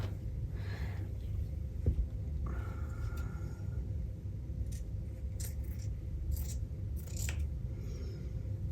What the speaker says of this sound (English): Let's cut a piece off.